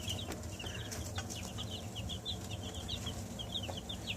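Chickens in a backyard flock give soft, rapid clucks and chirps in a continuous chatter, quiet and close, with faint background rustle and no talk.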